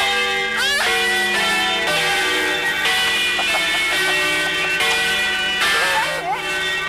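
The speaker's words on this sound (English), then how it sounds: "Right, ring the bells." Bells ringing out continuously among a steady wash of background noise, the tones overlapping with shifting pitched sounds throughout.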